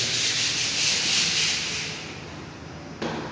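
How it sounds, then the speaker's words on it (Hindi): A paint roller loaded with colour rolls across a house wall, a steady close-up rubbing swish that fades slightly before a brief louder pass near the end, with no talk. "अब रोलर चलाई।"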